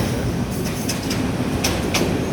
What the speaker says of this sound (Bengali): ট্রেন ওভারটেক করতেছে,